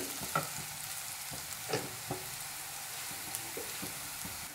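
Onions sauté in a pan under a constant quiet sizzle, punctuated by several soft, irregular taps and scrapes of a spoon stirring them, close and without speech.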